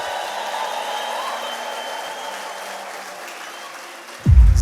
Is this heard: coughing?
no